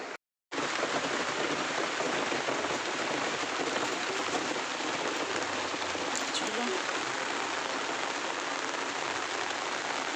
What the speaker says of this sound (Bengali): দেখো সব বৃষ্টি করছে